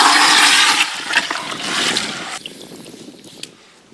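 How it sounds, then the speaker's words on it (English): Sand and cement mix is rinsed in water for a ferrocement build, giving a loud rushing, sloshing pour that cuts off abruptly and leaves a softer trickle and gurgle. "I'm gonna go ahead and rinse it one more time."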